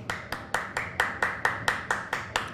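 Steady rhythmic clapping from a FIFA 23 video game crowd, about ten even claps in a row, moderately loud and close with a faint roomy backdrop.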